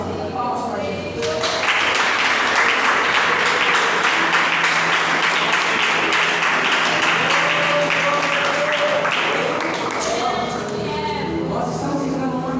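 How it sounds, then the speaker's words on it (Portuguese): A church congregation claps loudly and steadily during a Pentecostal sermon, the applause swelling after a second and holding for about ten seconds, with voices and music faintly underneath and a speaking voice returning near the end. "Palmas para Jesus."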